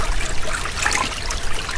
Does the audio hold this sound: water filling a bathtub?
yes